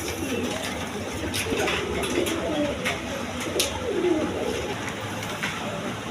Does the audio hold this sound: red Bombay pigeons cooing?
yes